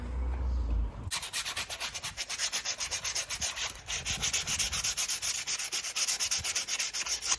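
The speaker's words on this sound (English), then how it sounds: "sanding just to bring it back to a smooth finish before we give it a nice coat" Wooden furniture is sanded by hand to a smooth finish: close, steady back-and-forth rasping strokes in an even rhythm, with no other sound.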